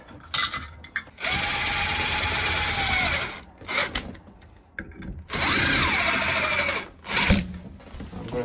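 A power drill drives screws into a Delta Classic 500 shower base, whirring in several loud bursts separated by brief pauses and clicks, with the motor pitch rising and falling as each screw seats.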